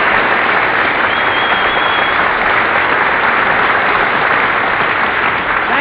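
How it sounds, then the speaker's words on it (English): Dense, steady applause from a crowd fills a hot hall, loud and continuous throughout with no pauses or voices over it. "Clap them hands."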